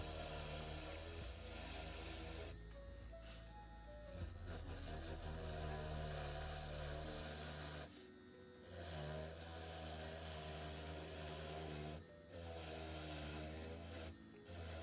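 A handheld Dremel rotary tool whines steadily while shaping a custom tabletop miniature base, cutting out briefly a few times and then spinning back up, loud and close.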